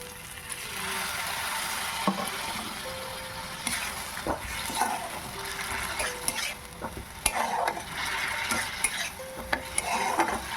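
Masala spice paste with salt being stirred and fried in a pan, a continuous sizzle broken by repeated scraping and clinking stirs of a spoon, close and fairly steady.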